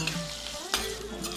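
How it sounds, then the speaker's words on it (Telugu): Chillies and curry leaves fry in hot oil for a tempering, giving a steady close sizzle with a brief stir or clatter partway through. "తాలింపు వేగిపోయింది కదా,"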